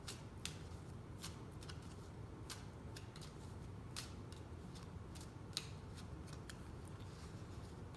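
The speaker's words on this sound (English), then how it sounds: "We're going to pull a card from a crystal deck." Repeated crisp riffling and snapping of a crystal oracle card deck being shuffled, sharp bursts recurring every half second or so over a steady low background hum, fairly close and quiet.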